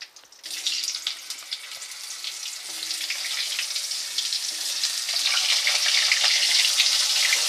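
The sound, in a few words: potatoes frying in pan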